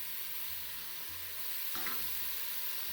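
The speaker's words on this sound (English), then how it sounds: "And now give the mince a stir" Mince frying with onions in a pan gives a close, steady sizzle with a brief stirring scrape partway through.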